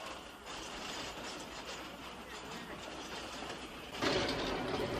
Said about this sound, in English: Look at all the steam coming from the steam locomotive as it pulls the train.